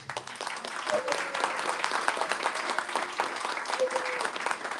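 An audience at an awards event applauds warmly for a speaker, a dense, sustained clapping that carries on for several seconds, with a voice heard faintly under it.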